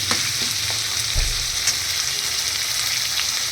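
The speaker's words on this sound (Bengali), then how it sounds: "এবার দেখো পেঁয়াজগুলো দিয়ে দিয়েছি তেলের মধ্যে।" Onions frying in hot oil for a chicken dish give off a dense, continuous sizzle that stays loud and even throughout, with a faint thump near the middle.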